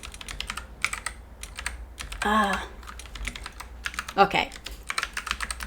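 Clicky keystrokes on a computer keyboard come in quick irregular bursts, close and clear, with two brief spoken interjections breaking in between the typing runs.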